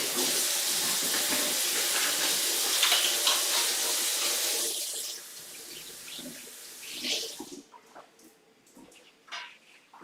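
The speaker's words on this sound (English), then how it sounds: "let me just wash my hands." Hands being washed under a running kitchen tap during home cooking, a steady broadband water rush for about five seconds that then thins into scattered splashes and drips before stopping.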